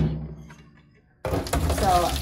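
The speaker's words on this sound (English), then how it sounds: "So this first pour, I'm gonna pour" Water sloshes and pours off tomato seed pulp from a container while saving tomato seeds, a quiet trickle then a sudden loud, close splashing pour.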